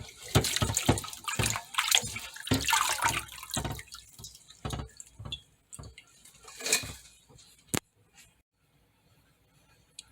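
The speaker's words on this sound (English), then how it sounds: "Just gonna have them soak in some water for a minute, whoosh them around." Freshly picked garden mint leaves swished around by hand in a bowl of soaking water, giving close, irregular splashes and sloshes that fade to occasional drips and quiet stretches.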